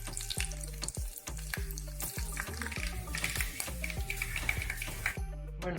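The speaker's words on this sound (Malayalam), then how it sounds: "കടുക് ഇട്ട് കൊടുക്കുന്നുണ്ട്." Mustard seeds spluttering and crackling in hot coconut oil in a pan, a dense run of sharp pops and sizzle that carries on steadily and close up, with no talking.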